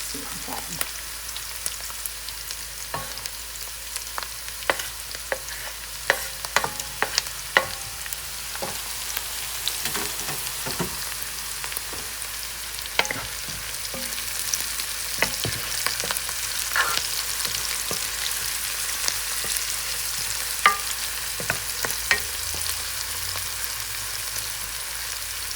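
Scallions fry in a pan for Jamaican curry lobster and shrimp, a steady soft sizzle with scattered sharp pops and crackles and occasional stirring clatter throughout.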